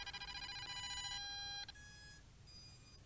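An Eachine EX2mini brushless FPV drone gives a short series of high electronic tones just after being switched into acro mode, sounding up close and fairly quiet, with a pause between the bursts.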